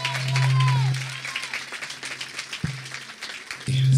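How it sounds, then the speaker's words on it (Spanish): A burst of applause from a crowd at a football player's presentation at Villarreal CF, with a voice speaking over the clapping and a loud tone sounding at moments. "El aplaudiment per a ell, Joel"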